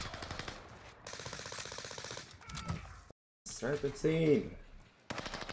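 Bursts of MARCO 5 automatic gunfire in the Warzone video game, the shots crackling in short rapid runs with brief gaps, mixed under excited player voices calling out.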